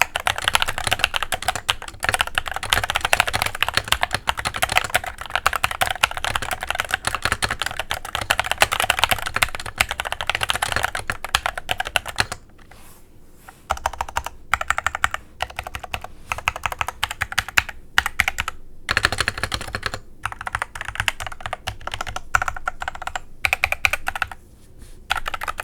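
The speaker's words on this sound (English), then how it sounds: "let's take a listen to the stock keyboard with the Tangies." Typing on an Epomaker TH80 Pro keyboard fitted with Tangies switches: dense, close clacking keystrokes in fast continuous runs, thinning into scattered presses with short gaps in the second half.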